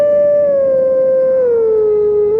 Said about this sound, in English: Twilight Princess has the howl.